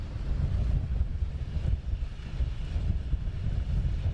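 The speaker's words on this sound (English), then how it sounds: "So we do have the arriving aircraft." An aircraft arrives at London Luton Airport as a distant, faint jet rumble under wind buffeting on the microphone, steady for a few seconds with no talk.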